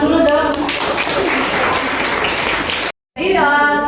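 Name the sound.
applause for team presentation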